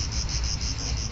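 Cicadas sing in a dense, continuous high buzz with a faint pulsing rhythm, loud and close, with no voices.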